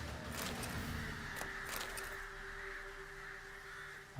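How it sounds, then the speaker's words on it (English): A flock of crows caws in the Velen region of The Witcher 3 video game. A few harsh calls ring out over a steady ambient bed, with no talking. "there's a flock of crows"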